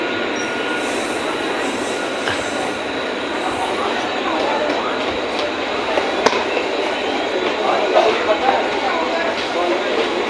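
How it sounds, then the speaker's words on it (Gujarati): A crowded passenger train rolls into a station with a continuous rumble, metallic wheel squeal and occasional clanks, loud and close, while people talk around it. "હાલો હવે આ ટ્રેન આવી ગઈ આપણી"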